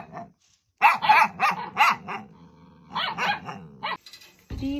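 Several dogs at a house in Uttarakhand bark rapidly and growl close by in two loud clusters of sharp barks separated by a short pause, with a low growl beneath and a brief clatter at the end.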